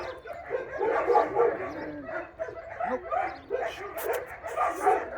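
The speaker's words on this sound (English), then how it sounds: "all the dogs go crazy." Several dogs bark and yip in a noisy, echoing kennel chorus, overlapping continuously, with a person briefly speaking over the din.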